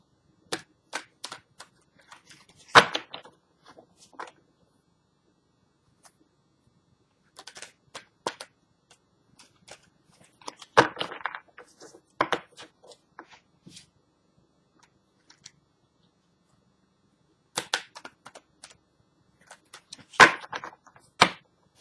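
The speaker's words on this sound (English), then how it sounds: "I'm done shuffling." Tarot cards are shuffled in quick riffling bursts separated by quiet pauses, close and crisp, repeating several times.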